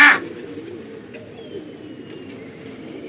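Pigeons coo softly and steadily in the background, birds from a pigeon-flying contest in Lucknow, after a brief loud burst at the start.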